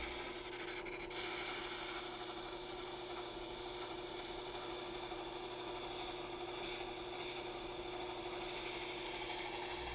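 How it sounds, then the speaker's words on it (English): Steady abrasive rubbing and whirring of a drum sander spinning in a drill press, refining a wooden edge, a constant motor hum under continuous sanding, close and fairly loud. "Then I'll refine the edge with a drum sander in the drill press."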